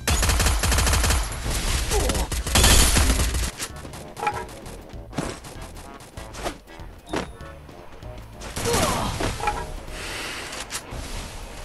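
Rapid automatic gunfire in the Free Fire battle game, with dense bursts of shots at the start and toward the end and sparser single shots and game effects between.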